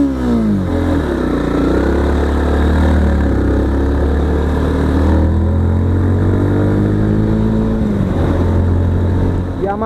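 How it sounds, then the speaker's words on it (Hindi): A Yamaha FZ-X 150cc motorcycle engine runs loudly and steadily close by, its pitch rising and falling as the throttle is blipped through several revs. "एक बार मैं आपको रेव करके सुनाता हूँ।"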